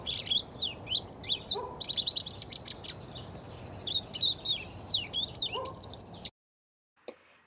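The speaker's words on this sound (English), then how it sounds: "One of the birds I'd like to scratch around my brush pile is the fox sparrow" Bird song and chirps repeat in a steady series of bright, close phrases over a low outdoor background hiss. The calls stop abruptly, and a single faint chirp follows after a short silence.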